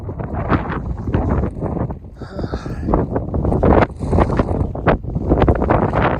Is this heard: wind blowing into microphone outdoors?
yes